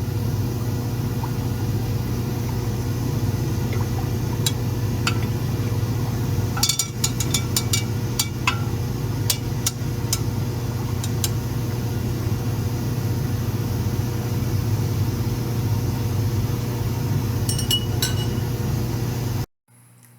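A few light glass clinks as palladium solution is stirred in a glass beaker, scattered in two small clusters over a steady, loud background hum.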